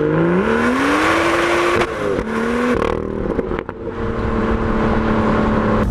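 A BMW M2 with active exhaust drifts on tarmac, its engine loud and close, rising and falling through revs with crackles and burbles from the exhaust, no talking.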